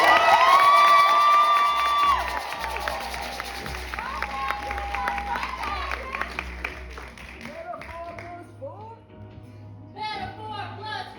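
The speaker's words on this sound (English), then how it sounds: "Everybody give a round of applause for Samaya." A crowd cheers and claps at a show finale, loud at first and then tapering off, with scattered whoops and voices mixed in.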